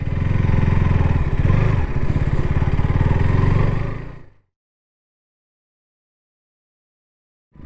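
A KTM RC 200 motorcycle engine drones steadily for about four seconds with a throaty, pulsing exhaust while riding, then cuts to silence.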